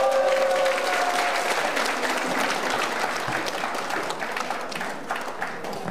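An audience at a lawyers' association lecture in Busan applauds to welcome a citizen reporter onto the stage, full steady clapping from many hands that thins slightly toward the end.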